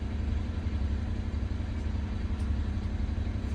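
A turbocharged car engine idles after a hill-climb test drive, a steady low rumble with a faint harmonic hum, close and continuous throughout with no speech.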